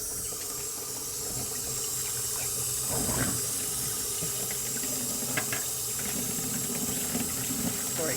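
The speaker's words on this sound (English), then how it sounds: "so we dump out this water." Rinse water tinted green with leftover film-developing chemicals is dumped out of a container into a sink, a steady close splashing pour that runs throughout with a brief louder gush partway through.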